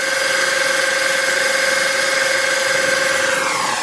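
A small motor spun by a 3D printed Pelton water turbine whines steadily with a constant high-pitched hum and hiss, holding an even tone throughout with no talking.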